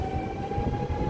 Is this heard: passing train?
yes